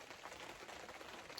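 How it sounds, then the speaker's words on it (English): Steady rain patters on surfaces around a crown land campsite in the evening, a dense even hiss with no voices or other sounds. "It's nice just sitting out here listening to the rain."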